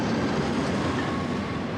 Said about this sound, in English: Our fourth train of the day is on the only narrow-gauge line of the Swiss Federal Railways.